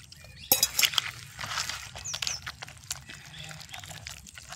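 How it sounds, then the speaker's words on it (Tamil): Water poured into flour dough for tea-shop-style pakoda, a quiet, brief trickling splash close by followed by faint wet mixing sounds. "கொஞ்சம் தண்ணி ஊற்றி பிசைஞ்சிடலாம்."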